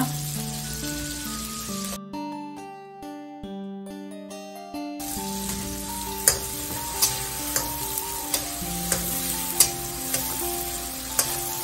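Vegetable fried rice stirred in a pan over a full flame: steady loud sizzling throughout with regular scraping taps of the spatula, under background music.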